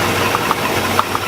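A car engine idles at low RPM in timing mode, a steady low hum under a faint hiss, with a few small clicks and ticks scattered through it at close range.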